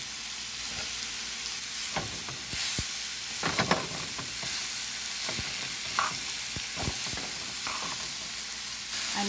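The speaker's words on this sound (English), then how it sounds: "Now add all our apples. And fry for 2 minutes." Chopped apples frying and being stirred in a pan of tempering over low heat, a steady sizzle broken by scraping spoon strokes and clicks against the pan, close and moderately quiet, with no talk.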